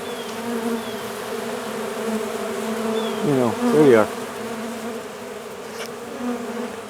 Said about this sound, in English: But my bees are out